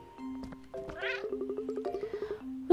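Cat meows in the video game Cat Quest, a few drawn-out tonal cries followed by a rapid rhythmic run of short chirping mews, fairly close and clear, with a game music tone underneath.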